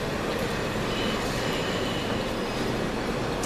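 A train pulls into East Croydon station with a loud, steady rumble of wheels and carriages that fills the whole stretch without a break.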